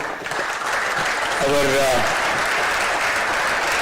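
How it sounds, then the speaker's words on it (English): Steady, loud applause from a film festival audience in Pune, continuous clapping filling the hall while a voice briefly speaks over it. "Now, give a big applause to"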